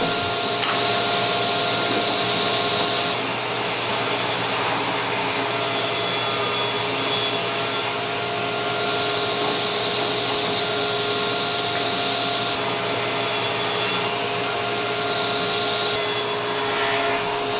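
A power saw cuts wood pieces for a wall tool-storage cabinet, making a loud, continuous whining roar. The roar swells and eases as each cut starts and ends, with no talking over it.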